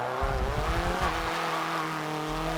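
In Forza Motorsport 4, a race-spec car with race exhaust revs its engine in a loud, continuous drone, the pitch climbing and shifting, with a gritty low rumble underneath.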